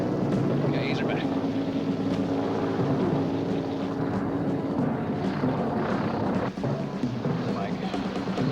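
An airplane sets down on water amid a steady, loud roar of engine and rushing spray lasting throughout, with a voice heard over the noise.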